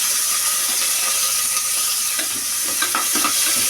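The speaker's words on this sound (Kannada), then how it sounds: "ಈರುಳ್ಳಿ ಎಲ್ಲ ಚೆನ್ನಾಗಿ ಫ್ರೈ ಆಗಲಿ." Onions frying in oil in a pan for a pea, capsicum and potato palya: a loud, close, continuous sizzle with a hissing edge, joined near the end by a few scraping stirs of a spoon.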